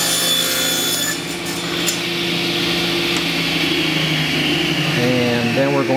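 A table saw trims the bad end off a piece of scrap wood, giving a loud, steady whine with a rasping cut from close by that carries on for the whole stretch.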